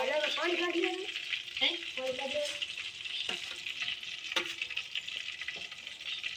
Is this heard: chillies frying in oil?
yes